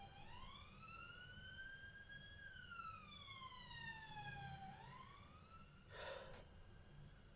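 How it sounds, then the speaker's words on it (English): A single emergency siren wails nearby, its tone sweeping slowly up and down over steady background noise, with a short breathy burst near the end. "Fucking sirens."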